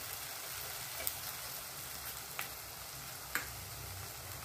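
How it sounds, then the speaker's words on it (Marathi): Capsicum fries in a pan for mixed veg kolhapuri, making a steady, soft sizzle throughout, broken by three faint clicks of a utensil. "आता शिमला आपली छान फ्राय झाली आहे"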